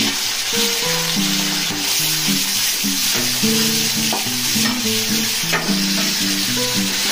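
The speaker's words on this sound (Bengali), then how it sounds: "তো এই মাছ কটা ভাজা হোক" Fish sizzling steadily in hot oil in a pan, with occasional stirring and scraping over a constant frying hiss.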